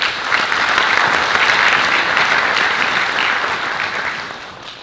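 A lecture audience claps in a sustained, dense round of applause at a public address, loud and steady before easing slightly toward the end, with no talk over it.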